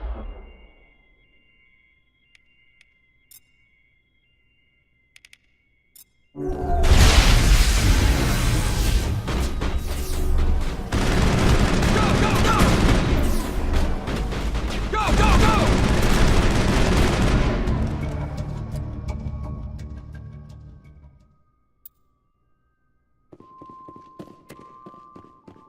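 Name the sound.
gunfire in Mass Effect video game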